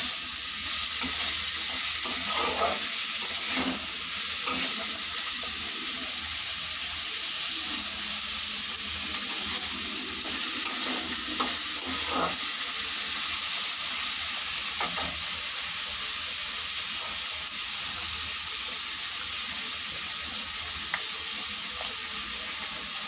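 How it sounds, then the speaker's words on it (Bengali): Salted food is stirred as it fries in a pan over a medium gas flame. A continuous close sizzle runs throughout, broken up by scattered scraping strokes of the spoon against the pan. "নুনটা দেওয়ার পর আবার একটু নাড়িয়ে নিচ্ছি।"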